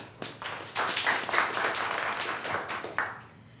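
A small group at a startup storytelling workshop gives a presenter a round of applause, with fairly sparse individual claps that build quickly, run for a few seconds and then thin out.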